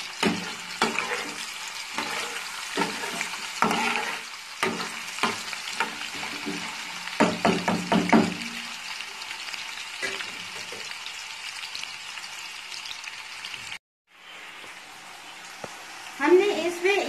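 Food fries in a pan while being stirred, a continuous sizzle with frequent scraping and clinking strokes, a short break near the end, then more sizzling.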